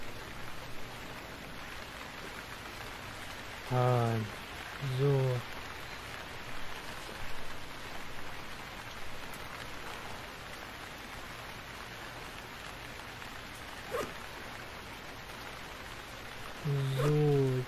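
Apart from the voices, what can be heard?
rain in the video game Stranded Deep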